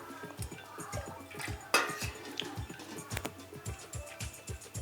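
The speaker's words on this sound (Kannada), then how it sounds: "ಸೊ ಹಾಗಾಗಿ ನಾನೀಗ ನೀರು ಕುಡಿತೀನಿ." Someone drinking a vessel of water in the morning, heard as a close, steady series of rhythmic gulps with soft splashes between them.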